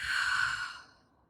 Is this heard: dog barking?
no